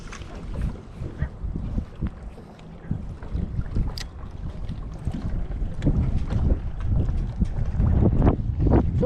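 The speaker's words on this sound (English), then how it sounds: "I feel like this wind keeps changing directions" Wind gusts across a deep Alabama lake while bass fishing from a boat, a loud rumbling buffet on the microphone with scattered knocks and splashes, rising stronger toward the end.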